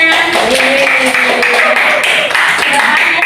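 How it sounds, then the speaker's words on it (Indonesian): Clapping from a classroom of students, a dense, steady patter of many hands close by that fills the whole stretch, with faint voices mixed in. "Tepuk tangannya"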